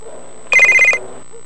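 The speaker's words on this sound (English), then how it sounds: "The phone's ringing!" Telephone ringing in a children's animated show, one short bright electronic trill burst, loud and close, standing alone between quiet moments.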